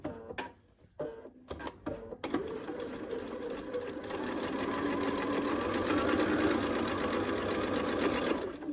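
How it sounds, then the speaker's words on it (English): A sewing machine stitches two pieces of quilt fabric together along matched seams. A few handling clicks come first, then a steady, close, continuous whir of running stitches with no talking. "I'm going to sew these 2 together"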